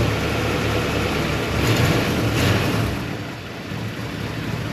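A Tri Five Chevy engine idles steadily with an exhaust leak, giving a dense, continuous low rumble and hiss that rises slightly midway then settles, with no voices.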